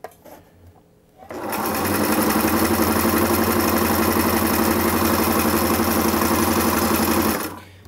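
A Singer Inspiration sewing machine stitches through doubled fabric with slightly reduced tension, starting after a brief pause and running in a steady, loud, close mechanical whir for several seconds before stopping.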